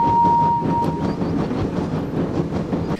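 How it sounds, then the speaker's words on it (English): A steam engine hauling an express train into a station, with a steady rumbling rattle of wheels and carriages close by and a faint thin whistle tone early on. "He puffed into a station with the express."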